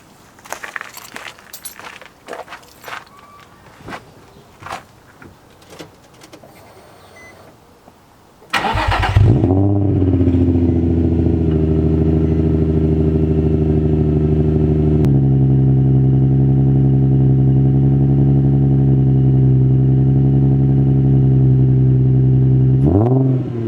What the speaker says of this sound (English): let's go ahead and give you a little cold start